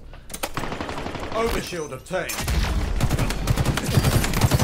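Dense gunfire from a ranked capture-the-flag match in Halo Infinite, bursts of shots and impacts layered over game sound, with a voice calling out briefly near the start.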